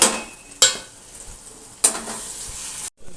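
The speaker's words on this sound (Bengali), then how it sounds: "দেখো এগুলো ভাজা ভাজা হয়ে এসছে সব আধ ভাজা" Spices and ingredients frying in oil in a pan as they are stirred, with a close sizzle punctuated by a few sharp scrapes or clinks of the utensil, then a brief drop to silence at the end.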